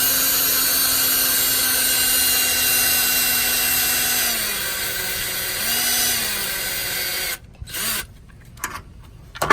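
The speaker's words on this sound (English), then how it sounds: "Drill this hole so I can pull this out." A power drill bores a hole through an aluminum hurricane shutter with a sustained whine and grinding rasp that dips in pitch twice under load, then stops abruptly, followed by a couple of short bursts.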